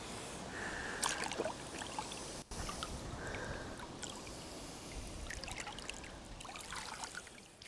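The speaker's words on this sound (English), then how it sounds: "I've got a nice pacey bit of water in front of me" Fast-flowing water of the River Wye on the Docklow stretch rushes and trickles steadily nearby, a continuous broadband wash with a few faint splashes and no talking.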